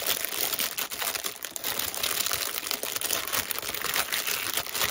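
Packaging being handled gives off dense, continuous crinkling and crackling, close and fairly loud, with no speech over it.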